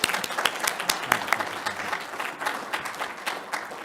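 A large audience at a transportation research plenary session applauds, dense and lively clapping that stays full and fairly loud throughout, with individual sharp claps standing out from the crowd.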